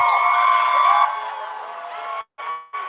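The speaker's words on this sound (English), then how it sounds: "Look at the crowd out there." A large crowd gathered outside a courthouse after a verdict cheers and shouts in a sustained, distant roar of voices that briefly cuts out twice near the end.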